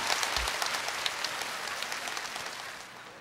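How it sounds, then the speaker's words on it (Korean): Studio audience applause at the KBS National Singing Contest taping in Andong, Gyeongbuk, a steady wash of many hands clapping, fairly faint and distant throughout, with no talking over it. "좀 다음 분에게 또 박수 주시기 바랍니다"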